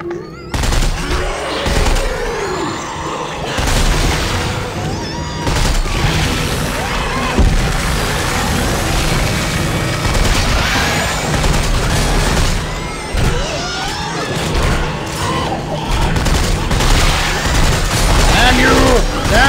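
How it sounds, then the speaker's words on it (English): Weapon fire in the Dead Space 3 video game, a combined freeze ray and assault rifle, crackling in dense continuous bursts with booms and crashes, loud throughout, with a player talking over it. "It's a friggin' freeze ray and an assault rifle, all in one."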